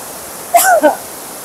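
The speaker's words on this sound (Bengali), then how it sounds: "একদম ওপর থেকে জলটা পড়ছে একদম, আর কি আওয়াজ, কিচ্ছু শোনা যাচ্ছে না" A waterfall near Pelling pours from high above as a steady, loud rushing roar that fills the whole stretch, with a brief voice speaking over it partway through.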